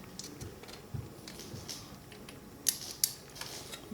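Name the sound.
torque wrench tightening motorcycle oil drain bolt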